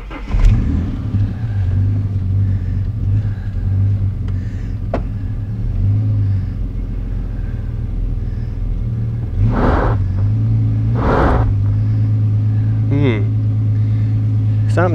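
An abandoned car's engine runs with a steady, close, low rumbling idle, then surges in two strong revs and a shorter one as it tries to reverse with the back wheels dug in.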